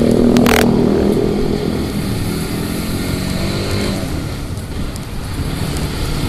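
A motorcycle running on its stock Honda CBR exhaust drones loudly and steadily close by, with a rushing, windy wash over the engine note throughout.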